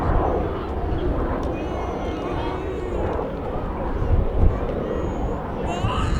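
An Avro Vulcan delta-wing bomber at the Scottish Airshow, a loud, steady, continuous jet roar filling the air with a brief swell near the end, no voices over it.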